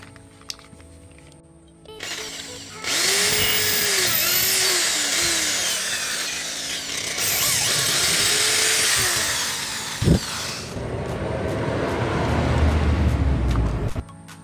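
A power drill with a 3 mm bit bores into material in long whining bursts, with rattling and scraping between runs and a brief sharp knock near the end, making a speargun trigger mechanism.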